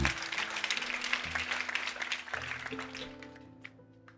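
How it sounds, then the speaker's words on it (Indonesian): An audience at a family conference in a hall applauds. The clapping is dense and steady, then thins and fades out over a few seconds. "Beri tepuk tangan."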